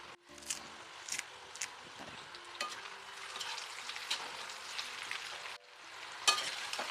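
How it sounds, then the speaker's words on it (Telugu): Chicken fry with coriander and chilli sizzling in a pan, a steady frying hiss broken by scraping stir strokes and light clatters, fairly close and heard alone. "కొత్తిమీర కూడా వేగిపోవాలి, పచ్చి పచ్చిగా ఉండకూడదు. ఫ్రై కదా."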